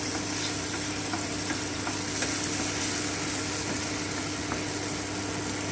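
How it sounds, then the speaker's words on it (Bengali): Soaked kasuri methi sizzles in a pan over low heat as it is stirred, a steady, continuous frying hiss with a few faint scraping ticks from the stirring. "আমি ভেজে নিচ্ছি খুব ভালো করে"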